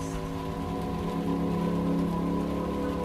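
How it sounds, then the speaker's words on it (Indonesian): Heavy rain pours down in a dense, constant wash of sound, steady throughout with no pauses. "Yang kulihat hanyalah guyuran hujan yang semakin deras."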